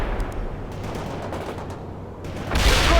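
Battlefield gunfire in the real-time strategy game World in Conflict, insurgent mission: sustained rattling bursts of automatic weapons and crackling shots, with a heavier explosive blast near the end.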